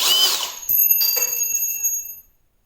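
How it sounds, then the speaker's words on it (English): Kobalt brushless drill whining loud at full speed in a sharp, high-pitched burst that starts abruptly and cuts off after about two seconds. "So you hit the button again, and now the thing is awake, and it just roars wide open, and the drill bit just goes flying."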